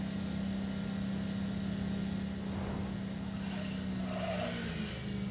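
A car drives in the video game NTE, a steady low engine drone with a faint tonal hum holding throughout, moderately quiet and continuous with a brief rise near the end.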